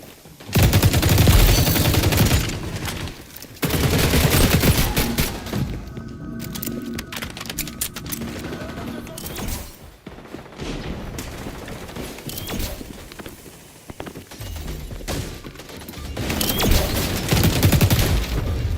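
Gunfire in the XDefiant shooter game, including shotgun blasts, comes as repeated rapid volleys and bursts separated by short lulls, loud and close, with no speech.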